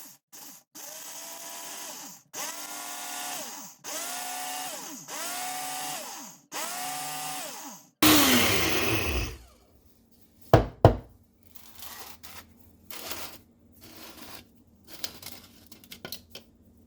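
Electric grinder pulverizing dehydrated food into powder, first in five or six evenly spaced whirring bursts with rising motor pitch, then a harsh grinding rush, followed by scattered rattles, knocks and clatter up close.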